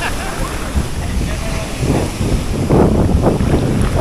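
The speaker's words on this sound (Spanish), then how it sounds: "la reventazón de olas está siendo más fuerte" Waves breaking on a beach of golden sand at low tide, a steady roar of surf with wind buffeting the microphone, swelling toward the end.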